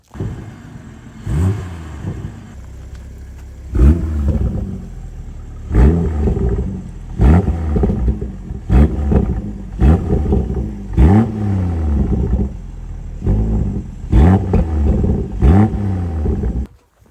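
A BMW M240i (G42) engine starts and then revs repeatedly, the loud throaty bursts rising and falling about every second or two with a steady idle between them, close by and with no talking.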